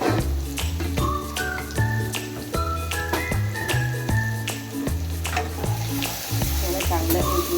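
Spice masala with red chili powder, turmeric and coriander powder is stirred and fried in oil for onion bhaji, giving a steady close sizzle with rhythmic stirring scrapes under louder background music.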